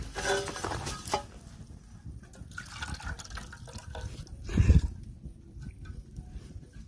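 Hot soup pours out of a pot at an outdoor winter jungle campsite, a steady liquid splashing that swells into a louder gush near the end before tapering off.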